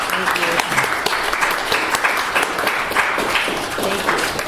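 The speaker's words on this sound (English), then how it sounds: "Would you please thank her by giving an applause?" Audience applauding a guest at the close of an interview event in New York, a dense, busy stretch of clapping with voices mixed in throughout.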